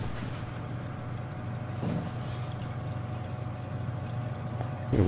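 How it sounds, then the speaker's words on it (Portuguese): Water floods into a room in the SOMA video game with a steady broad rushing and gurgling under a low mechanical hum, holding even and close throughout. "vai encher d'água aqui"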